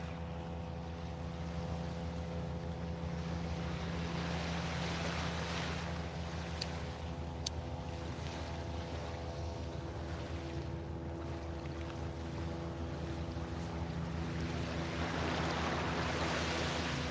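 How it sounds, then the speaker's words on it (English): Evening waves washing onto a shore under street lights, a constant broad surf roar with a steady low hum underneath, continuous and fairly loud with no distinct breaks. "Every so often some waves are coming in that are blue."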